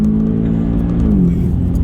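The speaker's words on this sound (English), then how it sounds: "And I'm now gonna launch it because this is a nice road." A Stage 1 tuned Audi S3 saloon or BMW M135i launching hard with launch control, its engine holding a loud steady drone that then shifts pitch as it pulls away, heard from close by.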